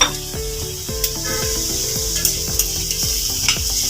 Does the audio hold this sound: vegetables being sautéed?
yes